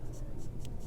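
A paper blending stump rubs graphite across drawing paper during portrait shading, giving soft, close scratchy strokes in a few short repeated passes.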